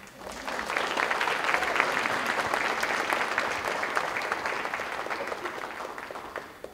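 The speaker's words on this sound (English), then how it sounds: "So can I get a round of applause for my hero" An audience applauds steadily for Phillis Young at a climate adaptation gathering, a dense, even wash of many hands clapping that holds for several seconds before easing off.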